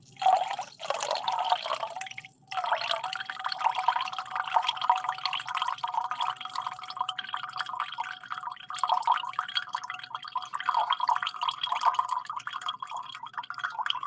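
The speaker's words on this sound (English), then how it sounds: "Give us a hint with some ASMR pouring action." Liquid poured steadily into a metal cup, a continuous close splashing trickle that runs without a break, briefly dipping near the start before resuming.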